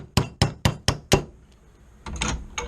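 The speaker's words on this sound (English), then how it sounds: "you take your appropriate sized roll pin punch and your appropriate sized hammer, and this is a pretty stout roll pin" A hammer strikes a stout roll pin punch while driving a pin out of a Springfield XDm pistol, five sharp evenly spaced metallic taps followed by a brief pause and a few softer clinks and knocks.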